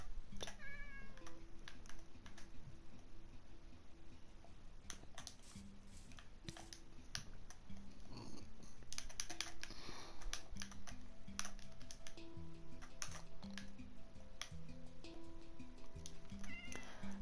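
Minecraft cat meows repeatedly, short close calls scattered across the whole stretch, mixed with fast computer keyboard typing and soft game music tones; no talking.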